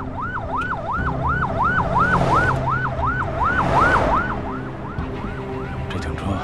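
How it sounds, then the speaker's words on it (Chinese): A police car siren wails in a fast repeating up-and-down sweep, growing louder as it approaches with traffic noise beneath, then fading slightly toward the end. "这警车该不会是跟咱们有关系吧？"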